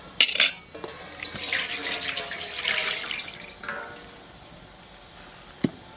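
Water poured over a metal plate covering a pot of mutton cooking village style, splashing and trickling for a few seconds after a sharp clink, then fading to quiet with a single metallic knock near the end.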